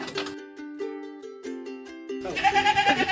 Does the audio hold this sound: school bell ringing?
no